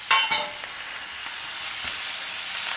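Chopped tomatoes sizzle in a pan with ginger garlic paste for a South Indian mixed vegetable gravy. A steady frying hiss runs throughout, with a few scraping stirs near the start and again around the two-second mark.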